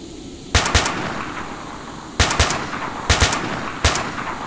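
Gunshots in STALKER: Shadow of Chernobyl come as short groups of two or three loud, close reports spaced about a second apart, over a steady hissing ambient background with no talking.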